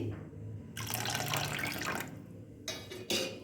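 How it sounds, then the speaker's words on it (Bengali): Water poured into thickened, swollen semolina batter for a breakfast dish, a steady close liquid stream running for over a second, followed by two short splashing pours. "এবার এর মধ্যে আমি অল্প আর একটু জল দিয়ে দিচ্ছি"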